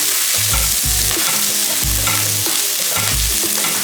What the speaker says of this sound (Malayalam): ആദ്യം പച്ചമുളകും ഇഞ്ചിയും കറിവേപ്പില ഇട്ട് കൊടുക്കാം. അതൊന്ന് വഴച്ചെടുക്കുക.